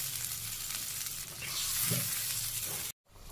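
Curry with raw green mangoes, tomato, turmeric and ginger fries in a pan in a Bangladeshi village kitchen, giving a close, steady sizzle that swells briefly as it is stirred, cuts out abruptly, then resumes more faintly.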